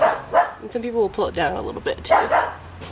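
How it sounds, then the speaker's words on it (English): Neighboring dogs bark and yip intermittently behind a nearby speaker, the barks short and mid-distance, partly masked by continuous talking. "excuse the dogs, neighbor dogs"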